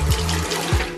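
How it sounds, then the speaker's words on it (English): Water runs steadily from a tap in an older-style wet bathroom of a Daejeon, Korea apartment, a continuous close splashing hiss with a couple of low thumps. "when you turn on the water here"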